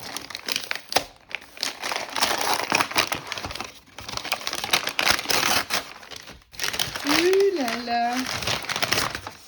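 A parcel of French treats being opened, loud crinkling and tearing of wrapping in bursts, with someone talking briefly and a squeaky whistle-like sound near the end.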